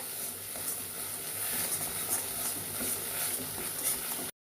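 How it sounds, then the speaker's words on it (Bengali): Tomato puree and spices fry on low heat in a pan for tilapia tel koi, giving a steady close sizzle and hiss with soft stirring scrapes, cutting off abruptly at the end. "এবার আমি দিয়ে দিলাম টমেটো পিউরিটা এটাও এর সাথে দিয়ে ভালো করে কষা করতে হবে লো হিটে কষা করতে হবে"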